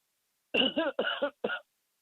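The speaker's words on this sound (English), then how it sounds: "Oh, excuse me, I had a cough." A single close cough breaking into a short burst of rough, throaty hacks, about three quick bursts, with no talking around it.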